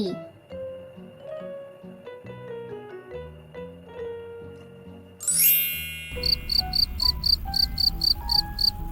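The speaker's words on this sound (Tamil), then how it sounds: "இந்த பூச்சோட சத்தத்தை நைட்டு நேரங்களில் கண்டிப்பாக கேட்டிருப்பீங்க கிரிக்கெட்" Music plays at first, then a loud cricket starts chirping in rapid, evenly spaced bursts, close and clear over a low background.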